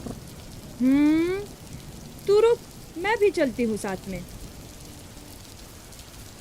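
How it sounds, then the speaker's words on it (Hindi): A heavy rain sound effect in a stage play hisses steadily and fairly quietly beneath a woman's short spoken lines, with no distinct thunder standing out. "भारी बारिश हो रही थी और बिजली भी गिर रही थी।"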